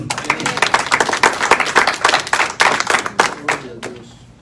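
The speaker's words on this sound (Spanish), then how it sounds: "Denle un aplauso al Señor." Applause from a church congregation, dense hand claps rising and falling for about four seconds before fading out near the end, with no speech over it.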